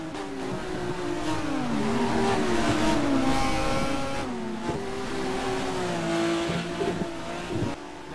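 Touring race cars at Suzuka in Japan roar past in close company, engines loud and continuous with rising and falling revs through the whole stretch.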